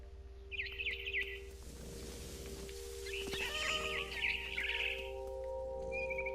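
Bird chirps from a barn swallow in the video game What Remains of Edith Finch, several bright twittering bursts over a steady game hum and music, fairly close and clear with no talking.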